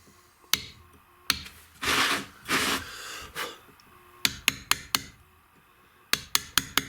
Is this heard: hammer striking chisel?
yes